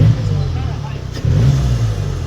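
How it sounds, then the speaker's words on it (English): A car engine idles with a low rumble, dips briefly, then rises in a quick throttle blip to a higher, rougher hum, heard up close over about two seconds. "Just gonna blip the throttle."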